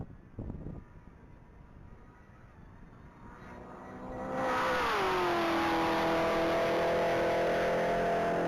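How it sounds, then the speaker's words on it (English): An orange 2023 Chevrolet Camaro accelerating down a one-mile top-speed racing strip, its engine note building from distant to a loud, sustained roar that climbs in pitch, shifts once, then holds steady. "That's going to be an orange 2023 Chevrolet Camaro"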